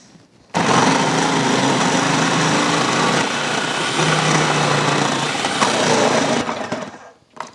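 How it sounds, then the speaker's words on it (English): Food processor chopping carrots for crisp sweet relish, a loud continuous whirring motor that switches on abruptly, runs steadily for about six seconds, then winds down and stops. "I'm going to run these all through the food processor"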